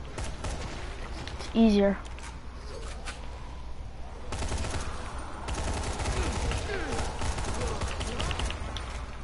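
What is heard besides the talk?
gunshots from the video game Dying Light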